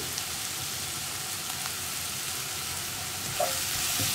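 Potatoes, brinjal and onion frying with turmeric, a dense, even crackling sizzle like light rain that holds steady throughout, with a faint stir near the end.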